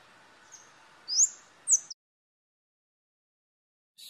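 A female kemade bird, red-rumped with brown upperparts, gives a few short, high, thin calls, two sharper notes close together, then a brief faint call after a silence, against a quiet background.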